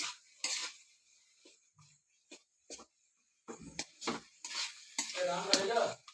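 A spatula stirs fish-head and taro curry in a pot, giving soft, intermittent scrapes and clatters that build into steadier, louder stirring toward the end, with faint sizzling beneath.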